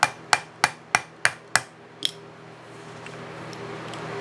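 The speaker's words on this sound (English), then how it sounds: "or like I'm using, the back of a rubber handled screwdriver" The back of a rubber-handled screwdriver taps a part on a Sheldon lathe: six evenly spaced, sharp close knocks, then one softer tap, with a low hum underneath.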